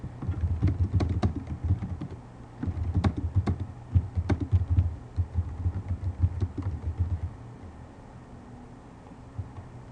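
Keys clatter on a computer keyboard as a post is typed, irregular bursts of clicks over a steady low hum for most of the stretch, fading toward the end.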